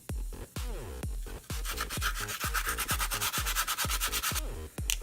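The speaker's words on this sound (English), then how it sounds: "I'm gonna have to get some sandpaper and clean her up a little bit" A seized 13 hp Honda small-engine part being scrubbed by hand with sandpaper: quick, rhythmic back-and-forth rasping strokes, close and fairly quiet, speeding up into a steady scratchy rubbing, with no talking.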